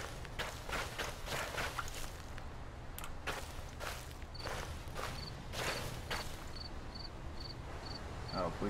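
Footsteps walking through a forest in the horror video game Slender: The Arrival, a steady series of soft crunching steps over a constant low ambient drone, with a faint repeating electronic beep joining later.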